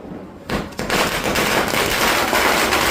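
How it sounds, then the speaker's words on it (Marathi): Diwali firecrackers burst in a neighbourhood lane, a sharp crack followed by a dense, continuous crackle of rapid pops that keeps going loud and close to the end. "लगे एकापेक्षा एक फटाके फोडून घेतलं"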